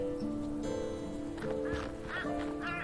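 Birds squawk and quack in the game Shardlight, several harsh calls repeating close by over a low ambient drone.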